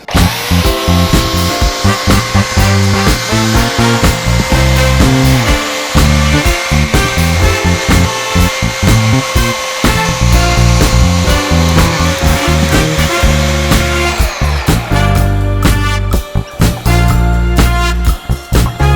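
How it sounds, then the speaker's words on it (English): An old, rough, noisy belt sander shaping a piece of wood into a handle, running loud and steady for about fourteen seconds before its tone shifts, with a dense mechanical whine throughout and no talking. "The only real shaping thing I've got is a belt sander."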